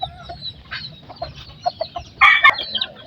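Chicks and chickens cluck and peep nearby in a busy, irregular stream of short calls, with a louder burst of squawking near the end.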